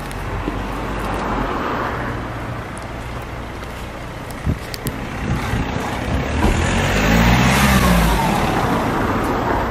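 Lamborghini LP560-4 fitted with an Armytrix exhaust revving in a tunnel: a loud, reverberant engine roar that rises and swells toward the end, with a booming, echoing rumble throughout.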